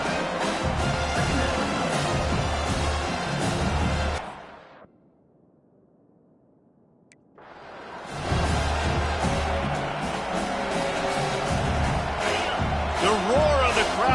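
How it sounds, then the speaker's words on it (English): Large football stadium crowd roaring during a game, a loud broadband wash of voices that drops out briefly partway through before swelling back to full volume, with commentary over it. "The roar of the crowd trying to fuel this defense to keep them pinned in their own end"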